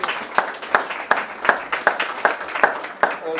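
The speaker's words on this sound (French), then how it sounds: "On peut l'applaudir aussi." Steady rhythmic clapping from a small group, even beats roughly every third of a second, moderately loud with no talking.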